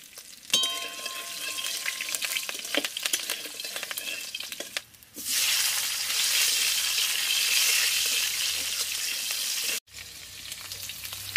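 Cumin seeds and green chillies fry in hot oil, a steady loud sizzle with stirring clinks early on that surges into a dense hiss midway and breaks off briefly near the end.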